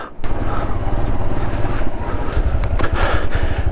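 Motorcycle ridden along a mountain road in Aru Valley near Pahalgam, Kashmir, with a loud, steady low engine drone and heavy wind rush against the microphone throughout.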